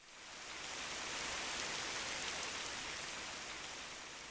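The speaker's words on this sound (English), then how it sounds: "And hear the rain." Steady rain falling on a surface, a soft, even hiss of countless drops that swells slightly and holds, fairly quiet and alone with no voices.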